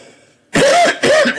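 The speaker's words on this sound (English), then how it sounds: "That is not a COVID cough" Two quick, loud coughs close by, the first after a short quiet lead-in and the second following right behind, each rough and throaty as if clearing something lodged in the throat.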